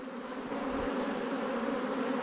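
Honey bees drone inside a beehive, a steady close hum with a low buzzing pitch that holds evenly throughout, with no voices.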